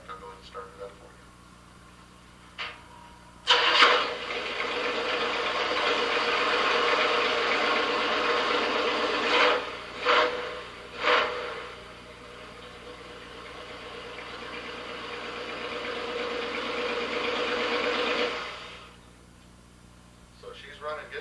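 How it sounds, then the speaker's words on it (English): A 1956 Chevrolet Nomad's engine cranks and catches, then settles into a steady, fairly loud idle with a couple of brief revs before it shuts off, alone without talk. "The motor does run. In fact, I'll go ahead and start it up for you."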